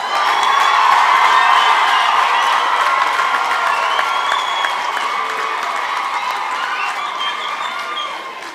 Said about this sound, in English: Let's make sure we give them also a round of applause now.